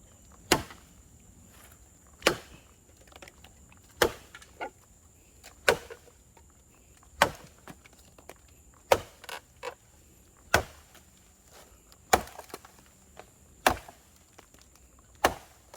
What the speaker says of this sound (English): Let's see how the CSF tracker does with slicing bamboo.